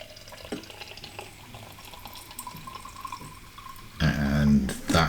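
Stars & Stripes hop tea brew pours from a Pinter into a glass, a low bubbling gush rising loudly near the end after a quieter stretch of faint drips and movement.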